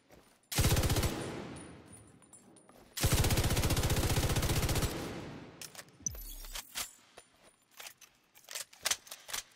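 Light machine gun blind-fired in a video game, with two long sustained bursts of rapid automatic fire, loud and close, followed by scattered sharp impacts and clicks.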